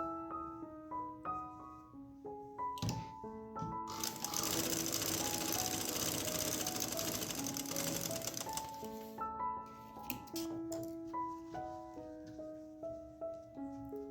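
Sewing machine stitching pintucks on a trouser, bursts of rapid mechanical chatter with a long continuous run in the middle, close and clear amid soft handling sounds.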